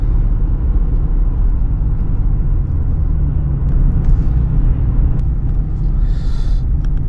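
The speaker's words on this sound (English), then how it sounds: "these trucks just don't stop." A line of trucks drives along a road in Ukraine, heard as a loud, continuous low rumble of heavy engines and tyres, with a brief hiss that may be an air brake near the end; no talking.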